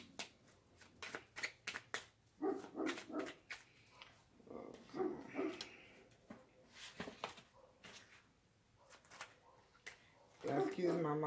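A dog barks outdoors in short, repeated bursts at a moderate distance, with a person talking over much of it.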